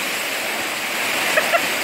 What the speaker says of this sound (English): I'm just beside the waterfall.